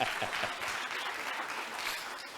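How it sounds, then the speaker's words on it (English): An audience claps in appreciation at a chat session, a steady wash of applause that holds at an even level and fades slightly at the end. "Give them a round of applause for that."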